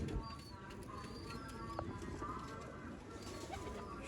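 Sialkoti breeder pigeons, a top-grade pair kept on a rooftop loft, give a few soft coos and calls over a steady outdoor background, faint and somewhat distant.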